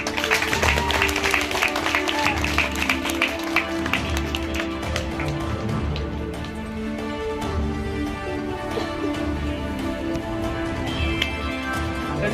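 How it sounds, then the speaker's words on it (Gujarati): Audience applause at a school award ceremony, dense clapping that is loudest at the start and then settles into a steady, slightly softer patter. "જોરથી તાળી પાડો."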